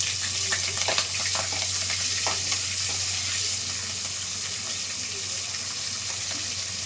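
Garlic cloves and green chilies sizzle in hot oil with a steady, close hiss, broken by a few faint pops and light stirring clatter throughout.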